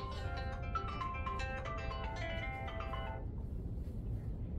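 A telephone ringtone goes off during a seminary lecture on church history, a melodic electronic tune of short repeating notes playing for about three seconds over a steady room rumble, then stopping.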